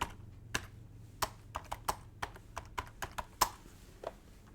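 Keys clicked on a computer keyboard while a price alert is entered, a steady run of a dozen or so sharp, separate taps, close and clear with no talking over them.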